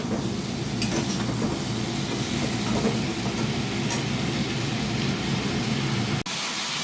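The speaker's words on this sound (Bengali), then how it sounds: "এবার এই আলু আর বেগুনটা টমেটোর সাথে ভালো করে ভেজে নেব।" Potatoes and eggplant frying with tomato in a pan, a loud, dense, continuous sizzle and rumble that ends abruptly.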